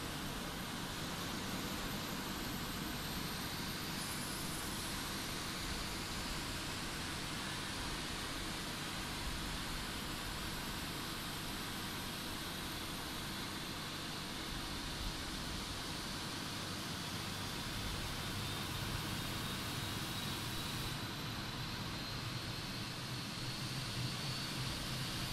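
Fenix A320 airliner engine number 1 spooling up in a flight simulator, heard from outside as a steady, loud broadband roar with a faint rising whine, continuous and alone throughout.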